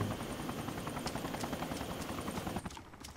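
Helicopter from the Arma 2 DayZ Mod video game, a steady rotor thrum circling overhead that drops away abruptly near the end.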